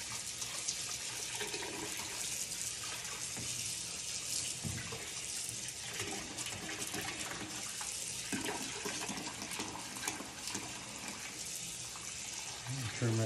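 Cold tap water runs steadily into a sink while a wild turkey breast is rinsed, a continuous close splashing hiss that fills the clip with brief handling sounds near the end.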